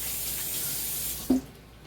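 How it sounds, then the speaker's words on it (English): Tap water runs steadily as hands are rinsed under it in a kitchen sink while making a Thanksgiving turkey-gravy casserole, a continuous hiss with one short louder splash near the end. "So let me rinse my hands off here."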